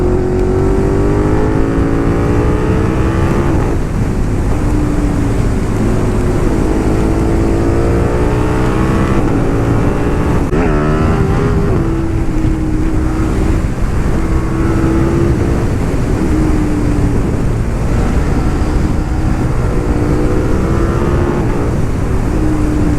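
A KTM 1290 Super Duke R motorcycle is ridden hard, its engine roaring loud and steady while rising and falling through repeated accelerations and gear changes, with strong wind rush throughout.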